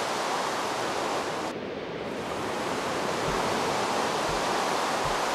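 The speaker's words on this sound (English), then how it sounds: "I'm in the middle of the ocean." Steady ocean water ambience in the Minecraft video game, a constant dense wash of surf-like noise with a few low thumps near the end and no talking.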